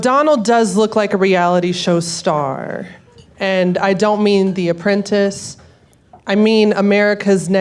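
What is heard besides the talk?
No everyday noises stand out.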